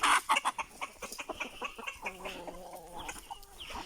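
Several chickens cluck and chatter nearby in an irregular stream, with one drawn-out call standing out midway.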